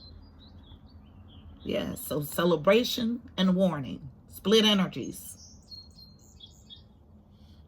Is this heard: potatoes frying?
no